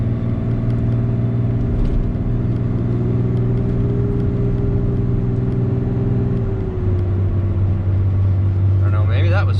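A Cummins diesel pickup truck towing a trailer drones steadily around cruising revs, a low continuous engine hum with a slight shift in pitch midway, heard from inside the cab.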